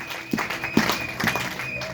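A church congregation gives a brief round of applause, with a few distinct claps rising over a soft, continuous background hum.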